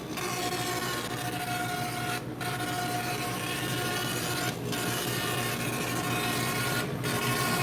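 A 100-watt laser engraver working a wood piece, giving a steady mechanical whir with a faint tonal hum, briefly interrupted by short pauses as the head changes direction.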